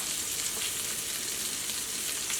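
Sardines fry in a spicy, tangy masala in a pan, giving a steady close hiss and sizzle that stays even and unbroken throughout.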